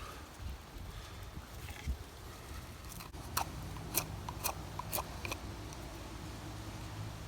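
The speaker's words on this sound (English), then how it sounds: "I'm going to cut some of that wet off right there" A pottery roll on a Rudiger fire roll setup having excess wet material trimmed off, giving a quiet steady scraping background with several sharp short snips and cuts clustered in the second half.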